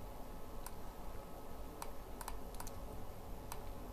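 A computer mouse clicking during a CorelDRAW design session: a few sparse, crisp single and double clicks scattered over a steady low background hum, quiet and close, with no one talking.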